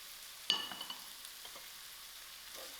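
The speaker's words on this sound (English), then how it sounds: "This I will continue stirring" Paneer stirred in a pan over low heat: one sharp scrape of the spoon followed by a few lighter scrapes and clinks over a faint, steady sizzle.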